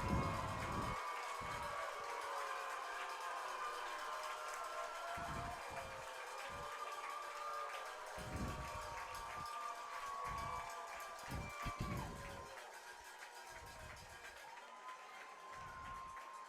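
A crowd at a high school football game between Ellender Memorial and South Lafourche roars in a continuous, distant wash of cheering and shouting, rising and falling with scattered louder bursts.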